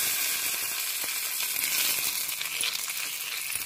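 Hot tempering oil is poured into bajji batter, giving a steady, fairly close sizzle with broad hiss and faint crackles that run the whole time, with no talking.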